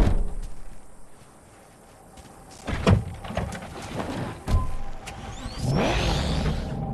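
A car in the Cyberpunk 2077 video game shuts its door with a couple of thumps, then the engine starts and revs as the vehicle pulls away, growing louder toward the end.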